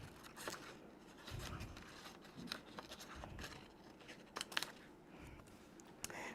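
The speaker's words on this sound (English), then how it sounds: "just wobble your scissors round, move your paper, get a nice close cut" Scissors fussy cut around shapes in design paper, giving quiet, close snips and scraping rustles in irregular bursts, with soft paper handling between cuts and no talking.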